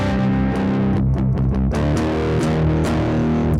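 A heavily distorted electric guitar through a Hotone Heart Attack pedal, cabinet simulator off, plays dense, sustained chords with buzzing harmonics, loud and continuous throughout, no voices.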